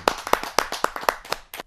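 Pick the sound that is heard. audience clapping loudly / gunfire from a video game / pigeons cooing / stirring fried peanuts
audience clapping loudly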